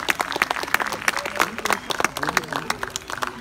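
Spectators at a sea lion show in an African safari park in Toulouse, France, clap after a trick, lively uneven applause with voices and shouts from the crowd scattered through it.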